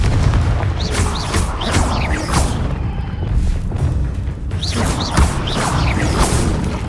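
Rapid spell blasts from the Confringo explosive curse in Hogwarts Legacy gameplay, heavy booming bursts layered over continuous rumbling game ambience with several sharp impacts spread across the span.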